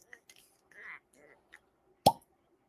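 A wine tasting bottle popping open, one sharp loud pop near the end after a few faint small clicks and handling noises, close by in a quiet room.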